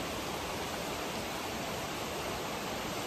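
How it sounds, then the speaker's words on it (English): Waterfall in Rouken Glen Park, Giffnock, producing a dense, unbroken roar of rushing water at constant loudness, close and filling the whole stretch with no voices. "This is the waterfall here."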